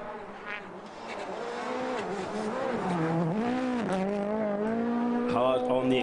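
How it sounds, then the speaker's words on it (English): Ford rally car at a snowy Swedish rally stage, its engine revving hard and accelerating with a loud, climbing and dipping engine note, under an excited commentator's voice. "Hard on the accelerator and hard on the revs."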